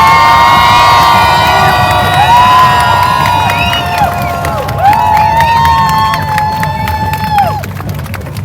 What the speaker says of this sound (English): I need you to give him an even warmer applause